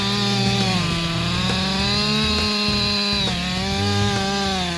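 A big forestry chainsaw cuts through a tree, its engine whining loudly and steadily close by, with slight dips and rises in pitch as the chain bites into the wood.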